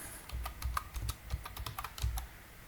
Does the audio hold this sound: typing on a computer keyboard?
yes